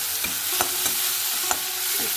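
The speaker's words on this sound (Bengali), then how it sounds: "মশলাটা ভালো করে আমি কষিয়ে নেবো" Spice paste with tomato frying in a pan gives a steady close sizzle, punctuated by about five scraping strokes of a stirring spoon against the pan.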